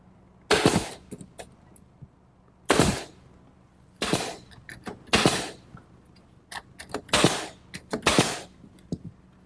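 Glue and 1 1/2 inch brads fasten the center cross piece of a wooden wine storage rack, as a pneumatic nailer fires several sharp, loud shots at uneven intervals, some in quick pairs, with faint clicks in between.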